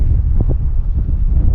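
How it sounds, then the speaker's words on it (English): Strong wind buffets a rooftop, a loud, steady roar of gusting air battering the microphone throughout, with no voices. "It's too windy."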